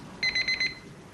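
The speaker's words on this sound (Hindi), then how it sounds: "ये 3 बजे अलार्म बजने का मतलब आप रोज रोज 3 बजे उठते हैं?" An alarm clock beeps in four quick, evenly spaced electronic bursts, clear and fairly close against a quiet room.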